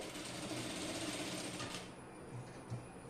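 Sewing machine stitching fabric for a child's crop top and skirt, a fast steady mechanical whir and rapid needle clatter running close and loud, easing off briefly near the end.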